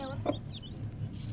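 A hen gives soft, low clucks to a newly hatched chick, a close murmur of brief calls with a faint higher chirp near the end.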